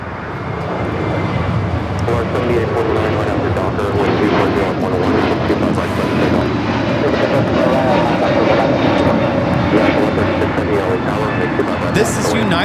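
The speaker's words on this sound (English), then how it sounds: "This is United Airlines 1244 taking off to Chicago on the A321neo." A United Airlines Airbus A321neo taking off at LAX gives a loud, sustained jet engine roar that builds and holds throughout, with faint talk mixed in.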